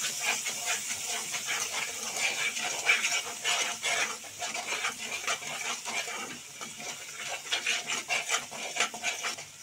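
A spice paste with yogurt, turmeric and sugar is stirred and fried in a pan for a Bengali posto chingri (poppy seed prawn) dish: soft close sizzling with repeated scraping and rubbing strokes of a spoon, fairly quiet, no talk.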